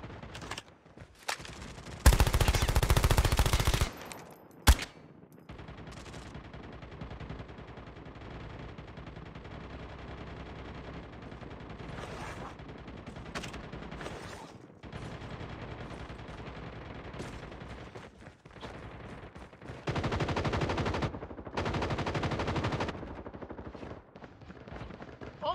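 Assault rifle fire in a video game, bursts of loud sustained shooting near the start and again about three-quarters through, over a steady low game background with no talk.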